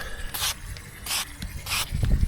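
Water sprayed to rinse the engine of a Romet 125 moped being washed after ten years of standing, heard as three separate hissing bursts of roughly half a second each, close by, with quiet pauses between.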